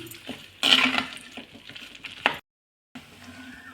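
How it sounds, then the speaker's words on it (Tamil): Sun-dried vadagam and dried manathakkali berries frying in sesame oil, a close crackle and sizzle with stirring clinks, loudest early on, broken by a short silence before the frying resumes. "அடுத்து தாளிப்பு வடகம் கொஞ்சம் போட்டுக்கிறேன் கூடவே மணத்தக்காளி வத்தலையும் இதில் சேர்த்துடுறேன் சேர்த்து நல்லா வறுக்கணும்"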